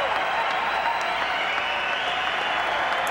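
Audience at the 1995 Arnold Classic bodybuilding show applauds a bodybuilder, a dense, sustained roar of clapping with crowd noise, steady and loud throughout.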